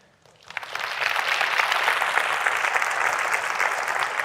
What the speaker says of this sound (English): I want to give Kelvin and his team a big applause, guys,